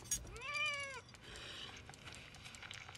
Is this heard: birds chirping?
no